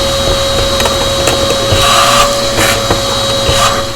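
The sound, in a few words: vacuum cleaner cleaning Breville Barista Express built-in grinder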